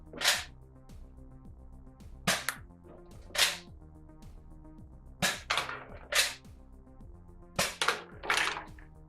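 An X-Shot Fury 4 toy blaster fires waffle darts in a series of sharp, close snaps, around nine shots in uneven bursts, with mechanical clicks and priming noises between them and no talking.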